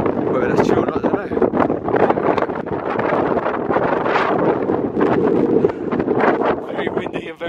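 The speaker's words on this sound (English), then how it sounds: "Very windy and very cold." Strong, cold wind on Glastonbury Tor buffets the microphone in a steady, loud roar with gusty surges throughout, and no clear voices.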